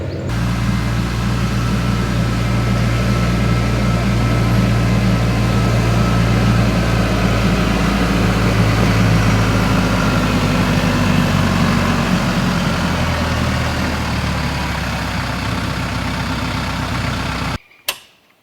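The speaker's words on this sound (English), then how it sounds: "Gina is coming down now with the TYM tractor." A TYM tractor engine runs continuously and loudly close by, a steady rumbling drone that cuts off abruptly near the end.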